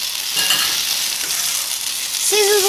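Venison and pheasant burgers sizzle and crackle steadily in a hot pan, a dense close hiss running throughout with a brief clink near the end.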